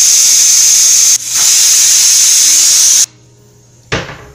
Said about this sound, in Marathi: दोन शिट्ट्या झाल्यात आता गॅस बंद करूया.